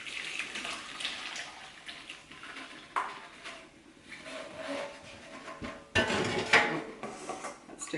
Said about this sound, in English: I'm going to strain this, just using a strainer inside the pot that I'm going to thicken it in.